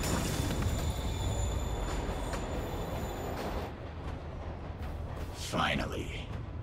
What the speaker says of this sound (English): Train's moving. Lee's getting away.